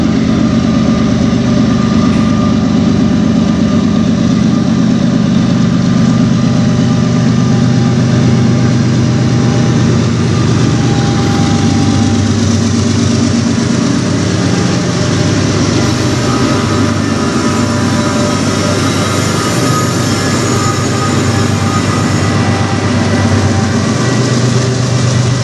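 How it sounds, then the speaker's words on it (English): Two CN locomotives haul a long manifest freight train slowly on the Strathroy Sub, their diesel engines droning loudly and steadily with a deep rumble throughout, close by. "A fairly big size train."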